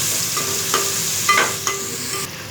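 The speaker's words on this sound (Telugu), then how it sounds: "ఉల్లిగడ్డ పేస్ట్ కొంచెం ఎర్రగా అయ్యేంత వరకు మనం వేయించుకుంటూ ఉండాలన్నమాట" Ground onion paste frying in a pan for a fish curry, a close steady sizzle broken by a few soft spoon scrapes as it is stirred.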